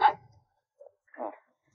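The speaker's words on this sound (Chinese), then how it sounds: "你靠近一点，它都嗷嗷的叫" A fierce small black dog in a cage gives a short sharp bark, then a faint yip and another brief muffled bark, close by in otherwise quiet surroundings.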